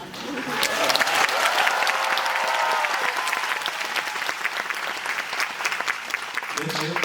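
A theatre audience at a musical curtain call in Seoul applauds steadily, a broad continuous patter of many hands from a full house, with a performer's amplified voice speaking over it.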